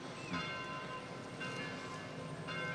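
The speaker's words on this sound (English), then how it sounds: "You hear those bells?" Distant church bells ring out in slow, repeating peals, faint and reverberant under a low background hum.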